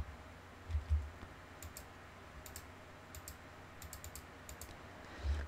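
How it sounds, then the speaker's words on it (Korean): Keyboard keys clicked in short clusters for copy and paste-in-front shortcuts, faint, close-up taps over a quiet room hum with a couple of soft thumps. "이 제품에 들어가서 컨트롤 C, 컨트롤 F를 눌러주세요."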